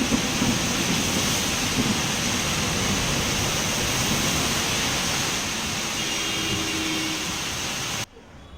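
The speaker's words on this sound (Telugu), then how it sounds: "తెల్లవారుజాము నుంచే ఉరుములు మెరుపులతో కూడిన భారీ వర్షం కురుస్తుంది" Heavy pre-dawn rain in Vijayawada during a thunderstorm, a loud, dense, continuous roar of downpour with a low rumbling undertone, cutting off abruptly near the end.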